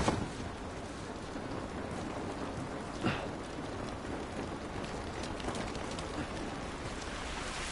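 Steady rain in The Last of Us Remastered patters continuously outdoors, with a soft bird-like coo and a few faint drip clicks over a constant hiss.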